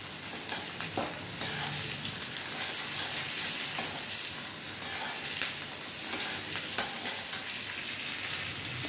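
Fish for chili fish frying in a pan while being stirred, a steady close sizzle broken by several sharp scrapes and clinks of the utensil against the pan.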